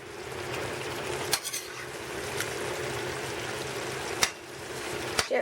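Eggplant croquettes frying in a pan of sauce are flipped with a small spoon; a continuous bubbling sizzle runs throughout, broken by a few sharp clicks of the spoon against the pan, with no voices.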